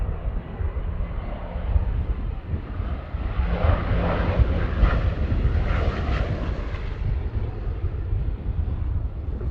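Bristol Blenheim aircraft flying at a Battle of Britain airshow, a loud steady propeller-engine drone that swells as it passes, with some wind noise on the microphone.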